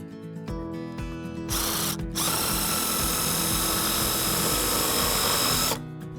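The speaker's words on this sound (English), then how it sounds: "I just put a Tech screw using one of the holes" A cordless power drill drives a Tech screw into a steel fence picket on a waterway fencing job, a loud close whine with ratcheting clicks rising to a sustained high-pitched run, then stopping abruptly.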